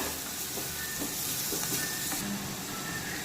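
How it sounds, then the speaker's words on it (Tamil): Ginger garlic paste frying with onions for a drumstick gravy gives a steady, fairly loud hiss and sizzle that runs evenly throughout, with no voices. "இஞ்சி பூண்டோட பச்சை வாசனை போகிற அளவுக்கு நல்லா கிளறி விட்டுக்கலாம்"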